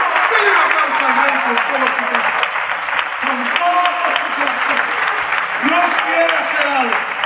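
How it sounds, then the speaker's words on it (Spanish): A church congregation applauding during a service, steady sustained clapping across the whole stretch, with a voice talking and music tones over the top. "Denle un aplauso al Rey con todo su corazón"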